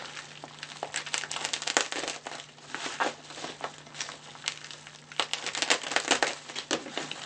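A Bricklink LEGO parcel being cut open: steady, close crinkling and crumpling of packaging material in dense bursts, with no voices.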